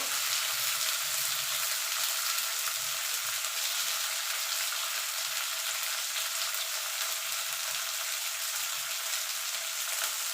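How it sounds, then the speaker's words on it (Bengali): Steady, dense sizzling of onions, ginger, garlic, tomato and spices frying in a hot pan, continuous and close, with faint stirring underneath and no talking. "এবার এগুলো একসঙ্গে একটু ভাজা ভাজা করে নেব"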